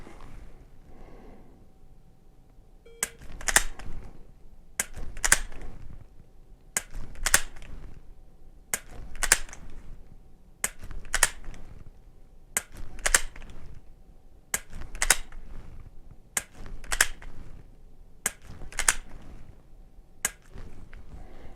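Ten sharp, dry trigger clicks from dry-fire shots in a timed Mantis drill, snapping out at a quick, even pace of roughly one every two seconds, close and crisp over quiet room tone.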